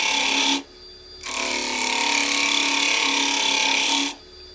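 Carbide chisel cutting wood on a lathe, a loud, close, steady scraping whir that stops briefly and resumes before cutting off again, with the spinning lathe humming softly underneath.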